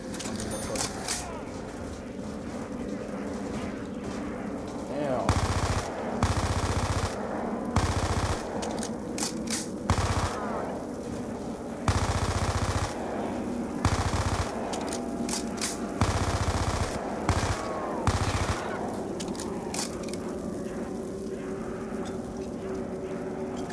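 Rapid automatic gunfire in the Call of Duty Black Ops 2 zombies game, repeated bursts of shots over a busy game soundscape, with a player talking at times.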